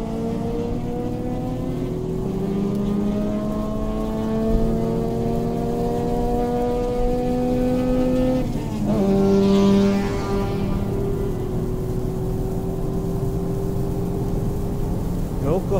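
A stock BMW M135i accelerates hard out of the final corner of a rain-wet race circuit, its engine note climbing through the revs, dropping briefly at a gearshift, then rising again, loud and close, with someone talking over it.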